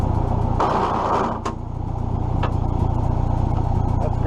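A Farmall M tractor's worn clutch grinding roughly over a steady low engine rumble, with a couple of brief knocks, close and fairly loud.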